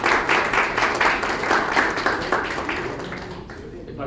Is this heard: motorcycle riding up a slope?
no